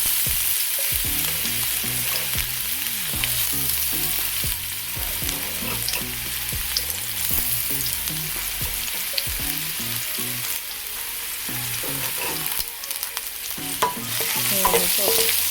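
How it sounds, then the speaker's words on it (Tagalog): Garlic sautés in hot oil for chop suey, sizzling loudly and continuously while being stirred, with scraping and clinks of a utensil against the pan throughout. "Ngayon pong mainit na ang ating mantika ay igigisa na natin ang bawang."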